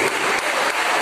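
Applause fills a church service, a dense, loud and steady wash of clapping from the congregation lasting the whole second.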